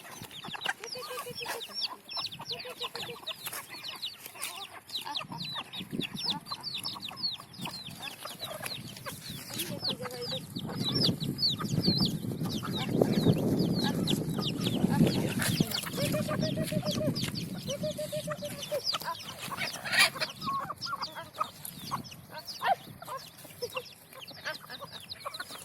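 Desi chickens cluck and chatter steadily on a village farm, a flock of overlapping calls close by with occasional rooster-like notes and faint voices in the background.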